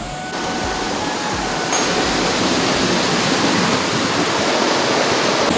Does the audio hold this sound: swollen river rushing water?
yes